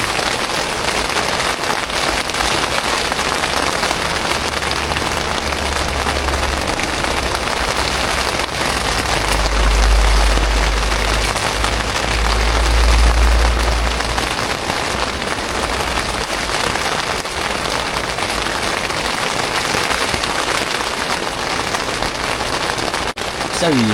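Steady rain patters without a break on a camping tent, a dense close-up drumming that lasts throughout, with occasional low thumps beneath it.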